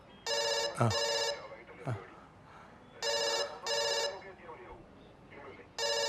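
A telephone rings in three bursts of electronic trilling, each about a second long, with brief speech and noises in between.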